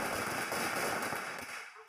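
Fireworks and firecrackers bursting at a BJP election victory celebration in Begusarai, a dense crackling barrage of pops and bangs that stays loud before thinning out toward the end.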